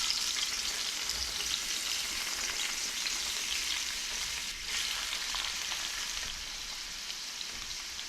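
Mushrooms sizzle and fry steadily in a hot pan while a seitan stir-fry gets started, a dense, continuous crackle that stays close and even with only a slight dip partway through.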